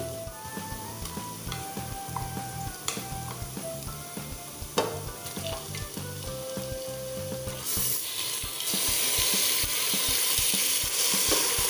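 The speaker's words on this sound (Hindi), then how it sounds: "अब मैं इसमें चिकन डालूंगी" Chicken pieces going into a pan of cooked onions, a busy sizzle with scattered clatters and stirring scrapes, then the frying swells into a louder, denser hiss as the meat hits the hot oil.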